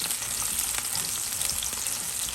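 Chopped green onions fry in a pan with a steady, dense sizzle and crackle, close and continuous with small pops scattered throughout and no talking.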